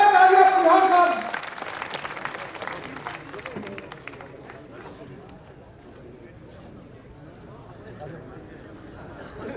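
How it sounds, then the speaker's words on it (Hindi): Crowd applause at a political campaign rally in Rajasthan, loud clapping at first that quickly thins into scattered claps beneath a murmuring crowd and distant talk. "जोरदार तालियां"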